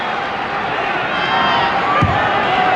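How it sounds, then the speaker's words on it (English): Crowd noise fills a basketball arena during the 1993 NBA Finals Game 6 between the Bulls and Suns, a steady loud roar of fans rooting for the Suns, with a brief thump near the end. "Now the crowd trying to get the Suns into it early."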